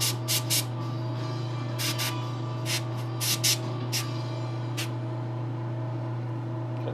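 Short bursts of spray paint hiss intermittently over a steady low hum while a custom statue is coated, roughly a dozen quick sprays clustered in the first few seconds, then tapering off.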